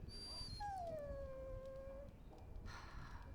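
A warhound in Dragon Age: Origins gives a single drawn-out, high whimpering whine with a falling pitch, fairly close and alone, followed by a soft brief rustle.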